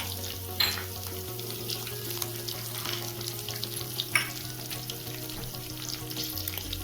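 Halved green chillies and curry leaves crackle and sizzle in hot oil for kanda poha, a steady frying hiss with a few sharp pops throughout.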